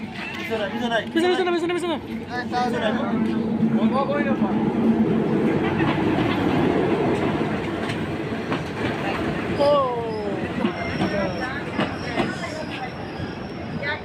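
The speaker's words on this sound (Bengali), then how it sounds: "অবশেষে ট্রেন চলে আসলো।" A local train arrives at a busy station in Bijoypur, Meghalaya, its rumble and wheel screech rising under heavy crowd chatter and nearby voices throughout.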